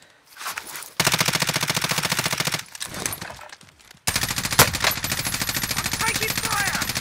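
Bursts of automatic gunfire in the battle-royale shooter Warzone, loud and close, with long rapid strings of shots broken by brief pauses and a sharp louder crack partway through.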